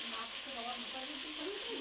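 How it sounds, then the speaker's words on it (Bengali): Potatoes frying in a pan with salt and turmeric, a steady close hiss and sizzle running continuously without a break. "এই যে আলুগুলোকে নুন আর হলুদ দিয়ে ভেজে নিচ্ছি।"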